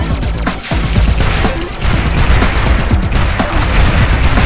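Dense bursts of gunfire and explosive booms in the shooter game Sky Force Reloaded crack and rumble continuously, loud and close, with rapid shots layered over heavy blasts.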